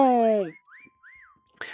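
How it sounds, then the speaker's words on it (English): Whistling in the video game Meccha Chameleon: a loud descending vocal-like tone, then a few soft rising-and-falling whistle notes over a steady electronic tone, ending with a brief noisy burst. "Like whistling back and forth with somebody else."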